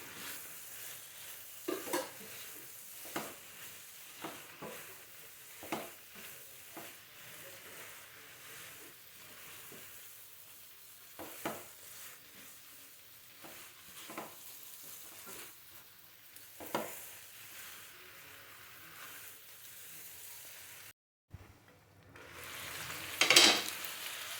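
Beans and potatoes stir-fry in a pan with cooked-down spiced masala for a koi fish curry, a soft steady sizzle broken by repeated scrapes and knocks of a spatula against the pan, close by, with no talking.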